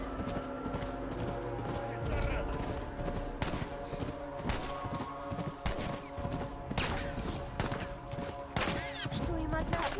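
Horse hooves clip-clop in rapid rhythm during a chase in the video game The Last of Us, mixed with bursts of gunfire, thuds and music, while someone talks over the action throughout.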